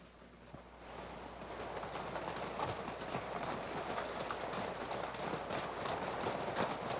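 A train rumbles along in a steady, moderately distant roar with faint rhythmic clatter that builds slightly and holds for several seconds, in a Western setting.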